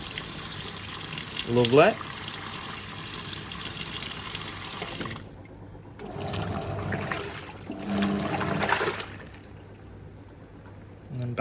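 A Hoover 1400 washing machine on a wool cycle fills with water: a loud rushing inflow for about five seconds, then a quieter spell broken by further splashing bursts, with someone speaking briefly.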